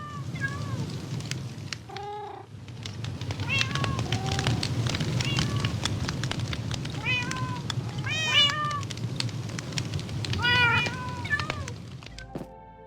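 Two black cats perched on a wagon in Minecraft meow again and again in short, high calls that come close together. They sound over a steady ambient background, with a few louder meows clustered in the middle.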